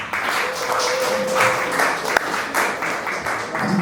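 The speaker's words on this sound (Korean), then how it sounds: "박수로 맞으시기 바랍니다" An audience at a local history symposium applauds to welcome the first presenter, producing a continuous wash of clapping with a few sharper claps standing out.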